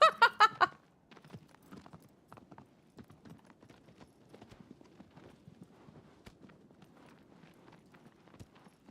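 Hooves of the horse Agro clop in the video game Shadow of the Colossus: a quick burst of loud galloping beats at the start, then lighter, irregular hoof steps and clicks continuing faintly.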